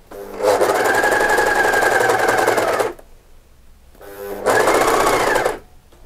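A Jaguar A399 overlock machine stitches in two loud, steady bursts of fast rhythmic whirring, the first about two and a half seconds and the second about one second, separated by a short quiet pause.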